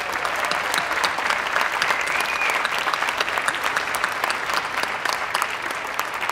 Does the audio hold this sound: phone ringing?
no